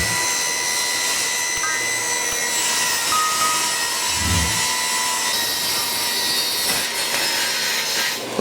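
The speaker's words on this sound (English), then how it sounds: "we're going to just start out by ripping a small piece of 1/2-inch plywood" Milwaukee M18 Fuel cordless table saw ripping a narrow strip of 1/2-inch plywood, a loud steady whining blade cut that holds level from start to finish, with no talking.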